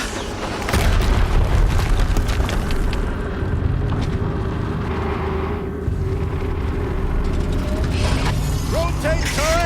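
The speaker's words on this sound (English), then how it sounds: "Another explosion." Explosions boom in the video game Horizon Zero Dawn, a rumbling blast followed by sustained mechanical roar and game noise, with a voice talking over parts of it.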